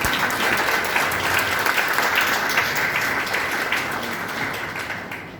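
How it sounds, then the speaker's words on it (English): Warm applause from guests at an 80th birthday celebration as a daughter is welcomed to speak, many hands clapping together, steady at first and then gradually tapering off toward the end. "Give a round of applause, everyone."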